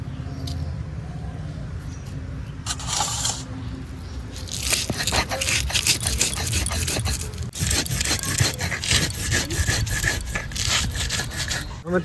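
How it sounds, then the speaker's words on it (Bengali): Rough grinding and scraping of green chilies with mustard seeds and salt on a grinding stone, continuous rubbing strokes close by, with brief sharper scrapes and a faint voice in the background. "আর কাঁচা লঙ্কা সর্ষের সঙ্গে বেটে নেব একটু লবণ দিয়ে দেবো"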